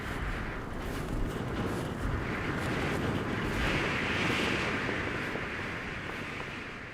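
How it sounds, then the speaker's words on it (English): Strong mountain wind roars across the slopes of Mont Blanc, a dense, continuous buffeting rush with surging gusts that swells louder midway and stays close and loud throughout, with no voices. "Gusts of wind buffet their bodies."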